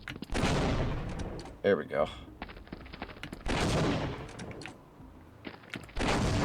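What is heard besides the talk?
bomb explosions in a video game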